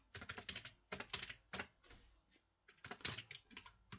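Keys clatter on an old wired computer keyboard in quick, uneven bursts of close, crisp taps separated by short pauses, with no voice over them.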